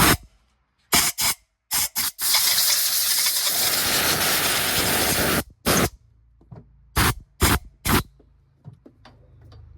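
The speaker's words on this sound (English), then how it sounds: "before I pull the spark plugs out, or in any of these side-by-sides, I like to spray out each of these holes." Aerosol spray cleaning out the spark plug holes on a Kawasaki Mule Pro side-by-side: several short hissing bursts, one long two-second blast, then more quick spurts, close and loud with quiet gaps between.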